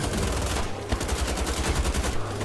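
Rapid bursts of automatic gunfire from the video game Wolfenstein: The Old Blood, loud and continuous, with dense repeating shots throughout and no talking.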